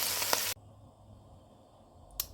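Garlic and mirepoix sauté in a pot with a brief burst of hissing sizzle that cuts off abruptly, followed by near quiet and a short flare of sizzle near the end.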